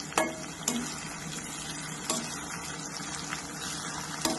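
Onions tossed into a hot pan with dried red chillies and curry leaves for gongura prawns, a soft, fairly faint sizzle with a few sharp clinks and stirring taps.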